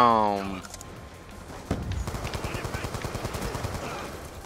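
Gunfire in Black Ops 2 online multiplayer, a shotgun in use nearby, with a burst of rapid repeated shots after a single sharp blast, while a tonal game sound fades at the start.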